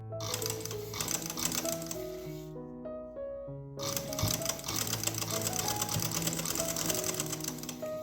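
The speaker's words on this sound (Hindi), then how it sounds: "इसके ऊपर हम मशीन की सिलाई लगा लेंगे" A sewing machine runs steadily while stitching pintucks into trouser fabric, its fast rhythmic whir close and continuous, broken by one brief pause before it resumes.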